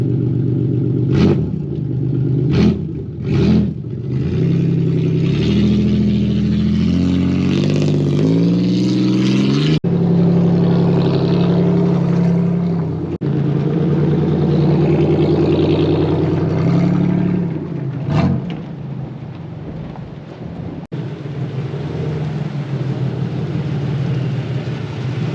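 A NASCAR-inspired race car engine is cranked, catches and fires, then is revved loudly and close up in repeated rising and falling surges, settling briefly to a rough idle between blips.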